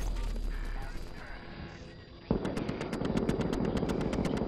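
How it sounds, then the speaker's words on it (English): Rapid automatic gunfire in The Division, hostiles shooting at a fortification, starting abruptly midway as a loud, evenly spaced burst of repeated shots after a quieter stretch of game ambience. "Hostiles are firing on a fortification at Alpha."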